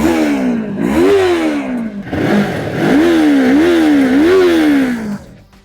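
A Yamaha R3 inline-twin motorcycle engine revving hard and loud up close, rising and falling in repeated throttle blips with a smooth, buzzy tone, settling back toward idle at the end.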